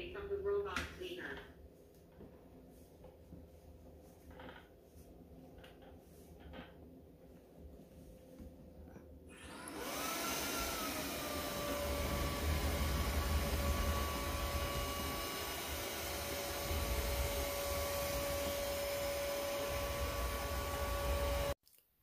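LG CordZero R9 robot vacuum cleaner starting up and running indoors during a navigation test, a steady broadband whir with a faint tonal whine that holds at a constant level after several seconds of quieter sounds and a voice.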